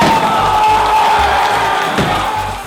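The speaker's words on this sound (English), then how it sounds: "And the crowd cheering for Hungrybox." A large arena crowd at EVO 2019 roars and cheers for Hungrybox after a Smash tournament win, a loud continuous wall of shouting and whooping with rhythmic chant-like pulses underneath.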